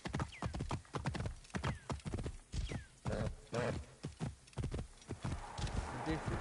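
A horse gallops in the video game Assassin's Creed Origins, rapid rhythmic hoofbeats pounding close and loud with a neigh, speech heard alongside.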